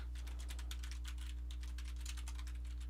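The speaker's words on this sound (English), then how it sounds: "What am I doing typing it in the chat?" Computer keyboard typing, quiet and steady, with rapid irregular key clicks running throughout over a low electrical hum, no talking.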